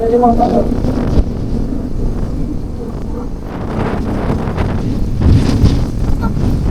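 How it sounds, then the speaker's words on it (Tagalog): Strong wind buffets the microphone in a constant low rumble over an open-water setting near a boat, with faint waves and bits of talk underneath. "Mahangin na, mahangin. Baka kayo yung tangay ng hangin."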